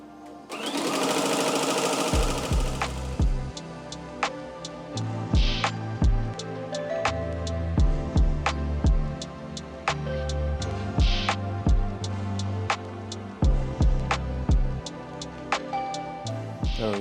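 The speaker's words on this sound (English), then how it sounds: "we can press start and let the machine embroider" A Tajima embroidery machine stitches a design onto a beanie, running loudly and steadily with a rapid mechanical clatter and regular rhythmic knocks, a brief hiss at the start and no voices.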